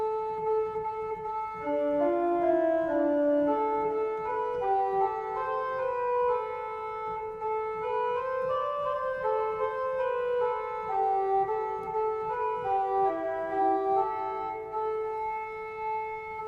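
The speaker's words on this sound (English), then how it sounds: "a plain song or Gregorian chant melody that became associated with Bernard of Clairvaux's words" A single line of Gregorian plainsong chant, the Jesu Dulcis Memoria melody, sung smoothly and steadily without accompaniment for the whole stretch, the slow stepwise tune moving at an even moderate volume.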